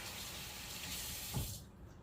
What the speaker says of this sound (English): And I'll pick this up, we'll wash it off.